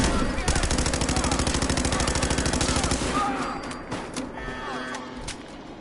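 Rapid automatic fire from a gun in the video game Fallout 4, a fast loud string of shots lasting about three seconds before stopping, followed by quieter game sounds.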